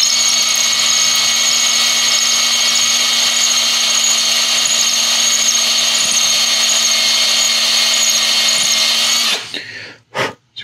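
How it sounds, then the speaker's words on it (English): A power drill runs steadily at high pitch, widening a hole in a 1/60 Sazabi plastic model kit part, whining loudly and evenly for about nine seconds before stopping abruptly with a couple of short bursts. "I'm just taking the drill bit and I'm just pushing down on it"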